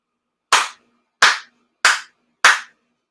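Four sincere hand claps at a Shinto prayer gathering, sharp and evenly spaced about two-thirds of a second apart, each ringing briefly in a quiet room with no talk.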